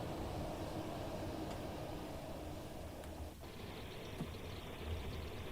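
A train running on the Brighton Main Line in Train Sim World 2, moving at about 50 mph, gives a steady, loud rolling rumble with continuous track noise throughout and a brief clunk near the end.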